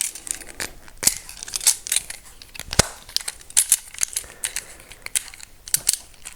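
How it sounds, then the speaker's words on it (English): A blade scraping at mosaic material, giving irregular close clicks, ticks and gritty scratches in short bursts with brief pauses, fairly loud and with no voices. "what I can do is actually scrape that off"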